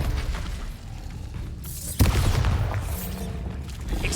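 A Bombarda blasting spell in a Harry Potter video game, a sharp explosive burst midway through surrounded by rumbling combat noise and other spell effects.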